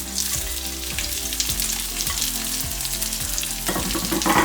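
Green chilies and sliced onion sautéing in a stone pot for a beans and potato milk curry, a steady loud sizzle with rhythmic stirring scrapes throughout, intensifying near the end, no voices.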